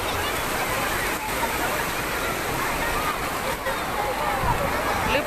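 Fast-flowing river rushing steadily through a valley crossing, a dense, constant wash of water noise heard close and loud throughout.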